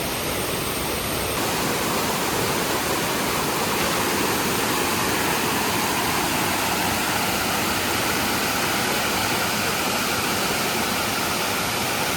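Madasseri waterfall near Neyyar dam pours in a dense, unbroken roar, loud and close, a constant broadband rush of falling water with no voices.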